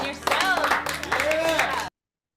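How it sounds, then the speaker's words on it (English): A small group claps briefly and unevenly for two people, with voices talking and exclaiming over the clapping until it cuts off abruptly. "Everybody clap for Kazuya and Jennifer and yourselves."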